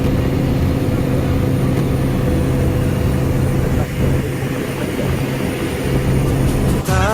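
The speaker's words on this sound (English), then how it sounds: "So you see, this is a small aeroplane." Steady, loud drone of a small propeller aeroplane flying to a remote area of Papua, continuous throughout with a low engine hum and no talking.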